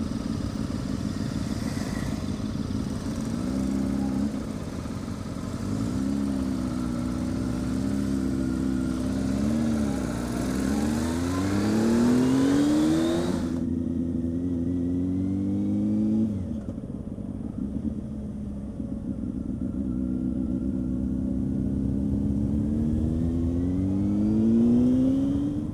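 Motorcycles on a charity ride-out through Melton rev and pass on the road, engine pitch rising and falling as bikes accelerate. One loud pass cuts off, then a quieter engine climbs again.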